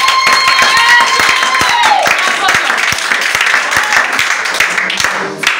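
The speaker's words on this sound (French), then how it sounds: "Acclame pour toi-même." A church congregation claps together in sustained applause, dense and fairly loud, mixed with voices and ringing musical tones that fade out toward the end.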